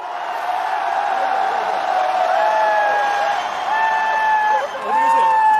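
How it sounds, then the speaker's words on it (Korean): A rally crowd at an outdoor political gathering in Gwangju shouts and cheers together for a few seconds, a loud sustained roar of many voices with rising whoops, continuous throughout. "전방 함성 3초 발사!"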